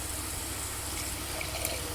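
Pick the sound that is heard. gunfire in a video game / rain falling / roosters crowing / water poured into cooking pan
water poured into cooking pan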